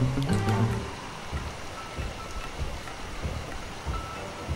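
Steady rain hisses and patters in the video game Sly 2: Band of Thieves, a constant wash of noise, with a brief tonal sound at the start and occasional soft thumps.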